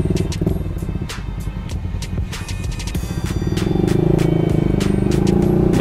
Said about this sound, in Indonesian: Banyak motor di sini